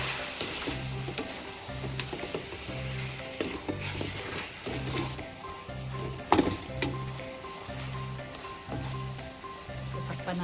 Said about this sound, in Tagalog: pakukuloy muna natin siya sa sarili niyang sabaw